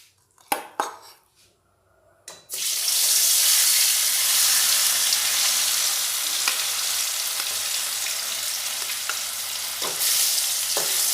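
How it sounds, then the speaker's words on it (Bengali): Pieces of katla fish dropped into hot oil, a few light knocks giving way to a loud, dense, continuous sizzle that holds steady close up, with occasional faint clinks. "এবারে একটা একটা করে ওই গরম তেলের মধ্যে দিয়ে মাছগুলি ভেজে নেব।"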